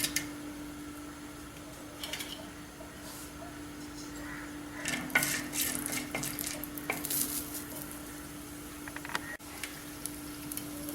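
Black pepper sizzles and crackles in a couple of spoons of hot oil in a pan for a broccoli curry, with stirring scrapes, steady close frying noise and a constant low hum behind it.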